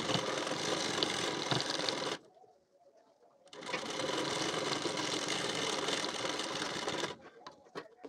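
A sewing machine stitching a blouse runs in two long continuous bursts of steady whirring, with a brief pause between and a short quiet stretch at the end.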